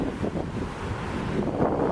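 Surf crashes over a low rock wall by a lagoon-like pool on a Kauai beach, a steady wash of breaking water heard up close. Heavy wind buffets the microphone throughout.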